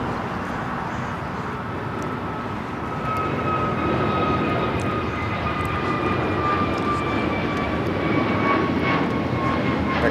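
Airliner departing from runway 25 right at LAX, a steady broad engine roar that swells slightly after a few seconds, with a thin rising whine riding on top, continuous and fairly close throughout.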